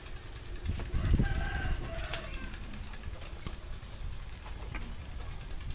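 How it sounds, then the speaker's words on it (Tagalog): Chickens cluck and a rooster crows faintly in an outdoor setting, with scattered clinks and background ambience. "May mga manok din."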